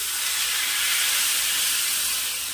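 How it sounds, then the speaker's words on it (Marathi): Water poured into a hot pan of oil throws up a loud, unbroken hiss of steam that holds steady for a couple of seconds. "यामध्ये पाणी ॲड करायचं आहे"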